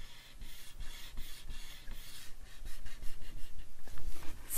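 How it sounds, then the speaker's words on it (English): A bone folder scoring a line on paper for a craft card, with short close rubbing strokes in a steady series that grow slightly louder toward the end. "Take your bone folder and mark."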